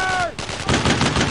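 Rapid gunfire bursts crackle in the World War II shooter Brothers in Arms, close and loud, with a brief whistling tone fading at the start.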